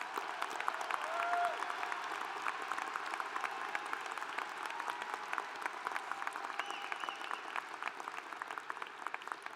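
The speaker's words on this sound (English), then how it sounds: "Please join me in showing our appreciation with a round of applause" Quiet, distant applause from the audience at a spring university commencement ceremony, a steady even patter of many hands sustained throughout.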